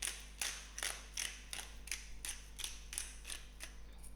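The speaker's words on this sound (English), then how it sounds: "a generous grind of pepper" A pepper mill grinds a generous amount of pepper in a steady run of about ten crunchy clicks at an even rhythm, close up, over a low steady hum.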